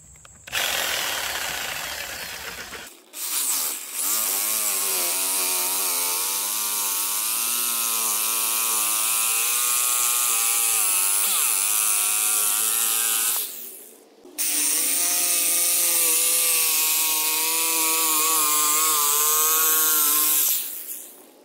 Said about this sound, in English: I'm using the belt sander, sand with 150 then 220 grit.